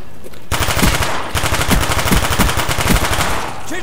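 A first-person shooter gun empties its magazine in sharp, rapid, evenly spaced shots, loud and close, with a short pause after the opening burst.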